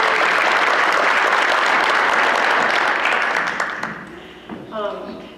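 An audience at a school awards ceremony gives a sustained round of dense applause that swells briefly, then dies away. A voice begins speaking as the clapping fades.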